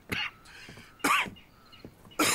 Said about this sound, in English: Man, that cough.